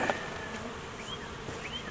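Honey bees buzzing nearby, a dense steady drone with individual bees whining past the microphone now and then.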